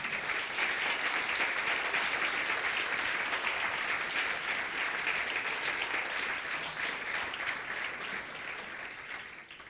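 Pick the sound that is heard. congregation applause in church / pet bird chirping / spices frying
congregation applause in church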